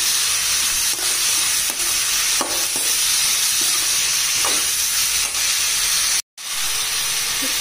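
Chayote cooks in a pan for chutney, giving a loud, steady hiss of sizzling and steam with occasional scraping stirs and a brief silent break near the end.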